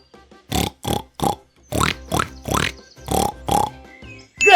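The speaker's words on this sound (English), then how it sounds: "That's the sound of a pig." Pig oinking in a series of about nine short nasal grunts in an irregular rhythm, close and clear with nothing else behind them.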